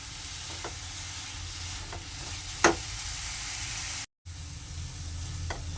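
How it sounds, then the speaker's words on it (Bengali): Carrot halwa with powdered milk is stirred in a hot pan, producing a steady soft sizzle with occasional scraping strokes of the spoon, close and even throughout. "দুধটা দেওয়ার পর সবগুলো উপকরণ একসাথে ভালোভাবে মিশিয়ে নিতে হবে।"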